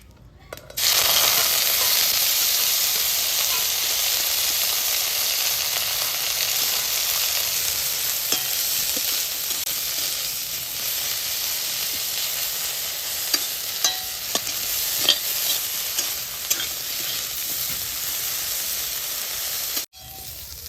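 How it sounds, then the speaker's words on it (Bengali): Helencha greens fry in hot oil with a steady, loud sizzle that holds throughout, broken by faint stirring scrapes and ending in a brief pause, with no voices. "তেলটা গরম হয়েছে গা, শাকটা ভালো করে ভাজে নিব"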